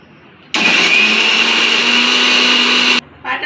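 An electric grinder whirs loudly and steadily for about two and a half seconds while grinding green chillies, starting and stopping abruptly, with quiet room noise before and after.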